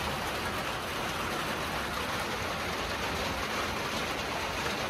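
Steady, dense hiss of heavy rain, constant and broadband with no pauses, filling the whole clip without any voices.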